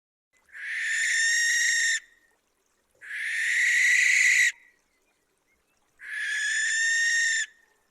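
A recorded barn owl giving three long harsh hissing screeches, each about one and a half seconds with short silent gaps between, clear and close against a quiet background.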